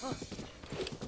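Horse hooves clop in quick, light steps in the video game The Legend of Zelda: Breath of the Wild, a short, faint burst of a few beats.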